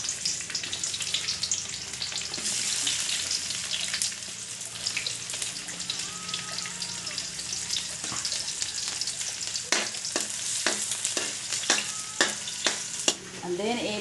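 Onion and garlic hitting hot cooking oil in a home kitchen, a loud, continuous sizzle with spatula scrapes and clinks toward the end, close and steady with no talking.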